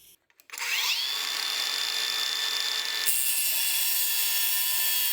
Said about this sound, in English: the next thing to do is to cut this in appropriate sizes and start forging the blades of the scissor.